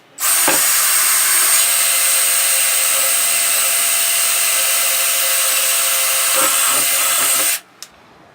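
A power drill bores a hole straight through the wooden body of a homemade diddley bow, a loud, steady high whine held for about seven seconds before cutting off sharply, followed by a single small knock.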